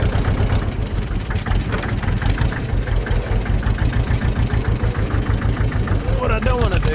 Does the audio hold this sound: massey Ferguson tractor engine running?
yes